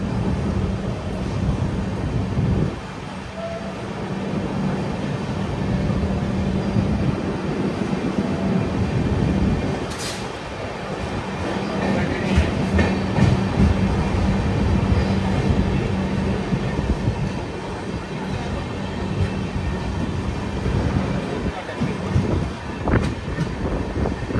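The Vidarbha Express, an Indian Railway train on the Mumbai to Gondia line, rumbles steadily along the rails for the whole stretch, with continuous wheel and carriage noise and no voices.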